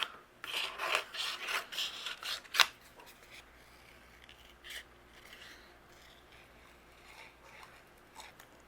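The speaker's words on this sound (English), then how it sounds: "take my scissors, and we're going to fussy cut out our greeting, all of our greenery," Scissors fussy cutting stamped paper images for a greeting card, a run of close, crisp snipping strokes in quick succession followed by quieter, sparser cuts and paper rustling.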